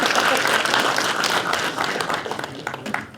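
Audience at a retro gaming expo panel claps and cheers loudly and steadily for about three seconds, with shouts and voices mixed into the dense applause.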